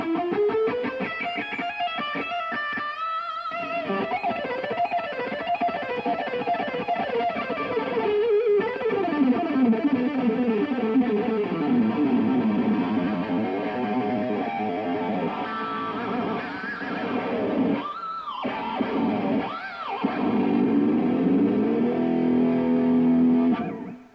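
Lick number two of a fast guitar riff, played alone in rapid runs of bright, distorted notes with a few short gaps and a held note near the end.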